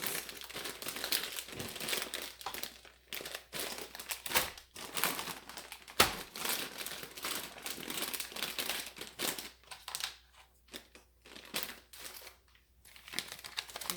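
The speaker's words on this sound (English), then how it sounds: "while I'm sealing it, I gotta go seal the oxygen absorbers." A plastic bag holding stored beans and oxygen absorbers is handled and sealed, giving faint, continuous crinkling and rustling with scattered sharp clicks.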